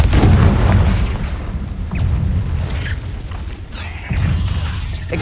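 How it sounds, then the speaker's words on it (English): A Confringo blasting spell goes off in Hogwarts Legacy inside a cave, giving loud booming bursts with rumbling low impacts and a sharp crack before a final heavy blast, with no talking. "Confringo!"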